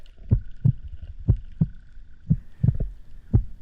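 Steady heartbeat with paired thumps repeating about every second, deep and muffled, heard close underwater while spearfishing off Carloforte, with a faint hum behind it.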